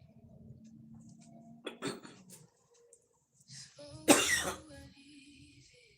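A single sharp cough bursts out close by during a calm meditation talk, preceded by a quieter throat sound and low background murmur.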